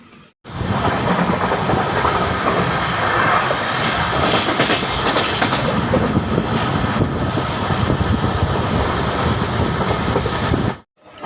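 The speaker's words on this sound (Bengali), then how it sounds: "আমাদের ট্রেন এসে পৌঁছালো জঙ্গিপুর রোড স্টেশনে" A passenger train running and pulling into Jangipur Road station, a loud steady rumble of wheels and carriages with rhythmic rail clatter, heard close from onboard before cutting off abruptly.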